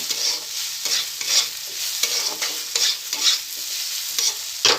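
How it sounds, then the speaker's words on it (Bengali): Spices, salt and turmeric stirred and fried in a hot pan, a steady sizzle broken by repeated scraping strokes of a spatula, close and loud with no voices. "সবটা এবার ভালো করে মিক্স করে নেব আর একটু ভেজে নেব"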